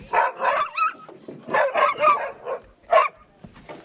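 Sled dogs at a training run bark and yip in loud, overlapping bursts close by, some calls rising into whiny yelps, with short gaps between volleys and no talking.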